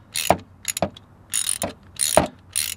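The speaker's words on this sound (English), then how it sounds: "Listen to it click." A ratchet wrench clicks while hand-tightening the 19mm pulley bolt on a 1996 Toyota Camry during water pump and timing belt work, giving a few sharp close ratcheting clicks separated by short pauses.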